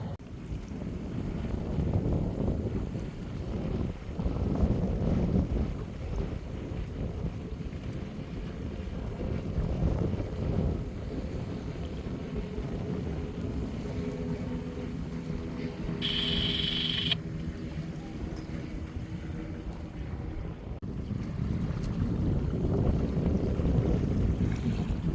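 Wind gusts buffet the microphone aboard a Catalina 25 sailboat on the Cape Fear River, rising and easing in waves with faint water and boat noise underneath and a brief high tone in the middle.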